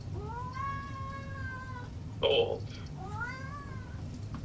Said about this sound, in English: You want this very annoying cat?